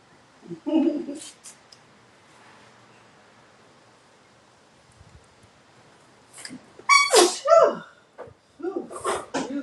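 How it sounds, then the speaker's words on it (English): A sharp sneeze bursts out early, followed later by a cluster of louder sneezes and sniffs near the end, close and unaccompanied by talk. "Excuse me, y'all. Sneezing all over y'all."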